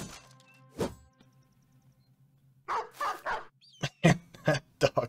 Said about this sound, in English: That dog is annoying.